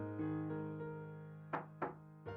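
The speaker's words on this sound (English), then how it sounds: "There was a knock at the door." A visual novel sound effect of a knock at the door: a few soft taps under a sustained musical tone, then three sharper, louder knocks in a slow, uneven rhythm, with no voices.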